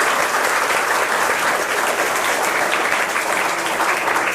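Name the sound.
students applauding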